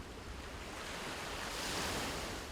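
Steady wash of sea surf at a coastal village in northeast Luzon near Palanan, a broad continuous roar of breaking waves swelling slightly louder midway, with faint wind noise and no voices.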